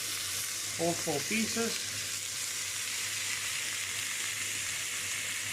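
Rump steak fries in a pan on maximum heat, a steady loud sizzle and hiss heard close up, with a brief spoken phrase near the start.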